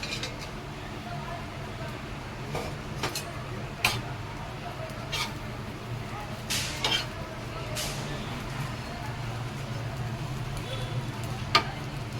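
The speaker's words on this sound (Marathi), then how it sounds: "ही जी सुकट आहे साफ केलेली ती भाजायला टाकते त्याच्यावर" Cleaned dried shrimp (sukat) roasting in oil on a hot griddle, with a steady low sizzle broken by scattered sharp ticks and scrapes of stirring over about twelve seconds.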